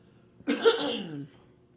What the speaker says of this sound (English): I don't know why I'm coughing so bad.